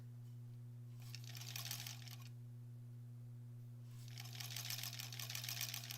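A sewing machine stitches a back tack on a Splendid Sampler 2 quilt block, two bursts of rapid needle chatter about a second and two seconds long over a steady low motor hum, close and moderately quiet, with no talking.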